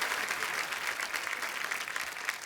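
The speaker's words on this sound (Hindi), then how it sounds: "वाह, जोरदार तालियां एक बार हो जाए।" A studio audience on a comedy talk show bursts into steady applause, fairly soft and continuous across the moment with no talk over it.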